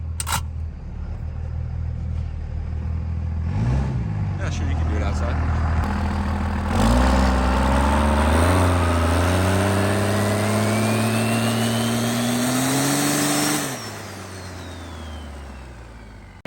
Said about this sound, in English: let the air conditioning, you know, kick on for a second there. And let's make sure she spools